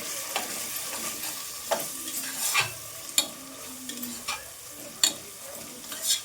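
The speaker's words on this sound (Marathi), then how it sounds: "सर्व मसाले आता छानपैकी फ्राय करणार" Spices (red chilli powder, turmeric, onion and garlic masala) with tomato and onion fry for a potato and peas curry, a steady sizzle broken by repeated scraping spoon stirs.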